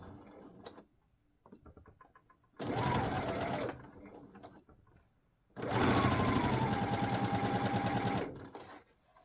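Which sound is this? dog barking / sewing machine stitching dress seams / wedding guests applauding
sewing machine stitching dress seams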